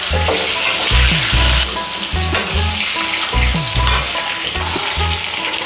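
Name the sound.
potatoes frying in oil with whole onions added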